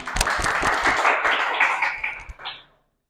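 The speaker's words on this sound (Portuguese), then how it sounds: "Salve de palmas, por favor." An audience applauds in a short, dense burst of clapping that fades out after about two and a half seconds.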